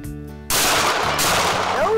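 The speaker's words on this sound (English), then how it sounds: "Hit the trigger. Safety's off, so it's all yours. Shoot that tree." A rifle is fired at a tree on a Montana ranch near Flathead Lake: one sharp, loud shot bursts out close up after a brief hum, then rings off into a fading tail.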